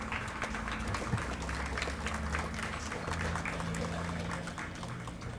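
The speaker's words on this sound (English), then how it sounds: "So another round of applause." Audience at a resource center blessing and grand opening giving a round of applause, a soft, steady patter of clapping heard from a distance with a low hum underneath.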